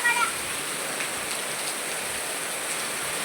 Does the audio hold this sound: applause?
no